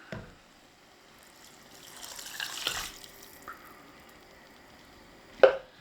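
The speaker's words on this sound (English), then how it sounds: "now we're going to pour the vinegars in" Vinegars are poured into a pan for chilli onion relish, a faint soft liquid splash and trickle with a few quiet clinks in a garage setting.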